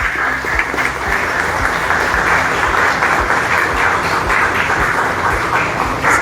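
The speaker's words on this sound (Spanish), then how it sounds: "retribuirles a todos un fuerte aplauso" An audience at a public talk about earthquake preparedness claps steadily, a dense continuous applause that holds for several seconds with no voices over it.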